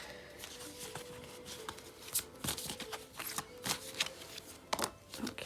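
Tarot cards are shuffled by hand in irregular bursts of riffling and slapping, fairly close and fairly quiet, with no talking.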